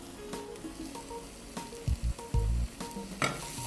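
Onions, garlic and tomato paste fry in a pan with a steady crackling sizzle, broken by several clattering stirs and utensil knocks against the pan.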